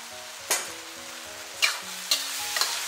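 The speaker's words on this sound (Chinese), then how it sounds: "大火给它煸炒5、6、7、8下，再淋上点明油即可出锅。" Napa cabbage stir-fried in a hot wok over high heat, with a steady oil sizzle broken by four sharp scraping strokes of the spatula against the pan, close and fairly loud, no voices.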